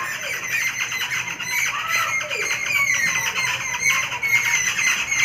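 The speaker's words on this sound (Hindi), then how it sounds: "बहुत सारी चिड़िया आके यहाँ पे पेड़ पे शोर मचा रही हैं।" A noisy flock of birds in a tree squawks and screeches constantly, many overlapping shrill calls at close range.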